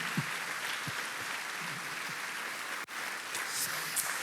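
A church congregation applauds during a Sunday evening service. The clapping is moderate and even, with a few low murmurs and a brief dropout partway through.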